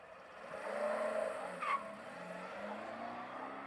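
A car pulls up in an animated cartoon with a tire-squeal-like skid and engine whine, a moderately loud sweep that settles into a steady hum beneath faint background sound.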